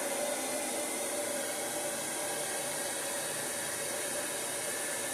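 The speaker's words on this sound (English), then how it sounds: "a hair dryer, like the hooded hair dryer." A hooded hair dryer blows steadily, a continuous broadband airy hiss with a faint motor hum running unchanged throughout, close and fairly quiet with no talking.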